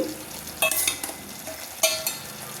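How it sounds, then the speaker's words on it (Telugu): Boiled drumsticks stirred into a tomato curry in a pan: a few scraping spoon strokes and light clinks over a faint simmering sizzle, close and fairly quiet. "ఇప్పుడు వచ్చేసి మనము ఈ ఉడికిన కర్రీలో ఈ ఉడికించుకున్న మునక్కాయల్ని యాడ్ చేద్దాము"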